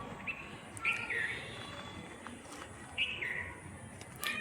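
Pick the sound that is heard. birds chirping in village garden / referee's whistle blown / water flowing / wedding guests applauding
birds chirping in village garden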